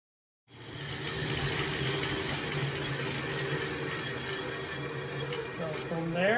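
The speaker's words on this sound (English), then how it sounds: "now we've got a vertical bandsaw for cutting out the shape" Vertical bandsaw starting up and cutting through an agave surfboard blank, a sudden onset into a steady, dense mechanical whir held close and loud, with a rising tonal sweep near the end.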